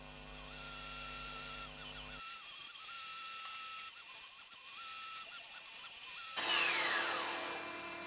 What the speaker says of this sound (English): It's very simple and I work with the table saw.